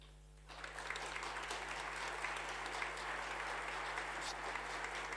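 An audience at an award ceremony breaks into applause for a professor, a broad, even wash of clapping that starts suddenly after a short pause and carries on steadily, with a low electrical hum underneath.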